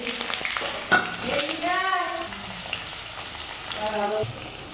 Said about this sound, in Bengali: এবার দিয়ে দিচ্ছি আলুটা এই ভয়টাই আমার ভীষণ লাগে ছিটে দেওয়া এমন করে তেলগুলো ছিটে আসলো